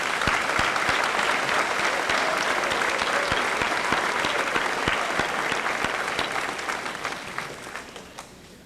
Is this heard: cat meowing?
no